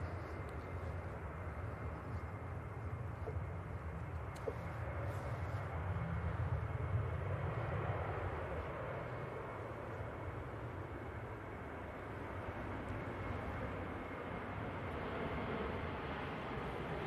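A Ryanair airliner at Manchester Airport, bound for Funchal, gives a steady, broad low jet roar heard from a distance; it swells briefly mid-clip and then holds at a moderate level, with no talk.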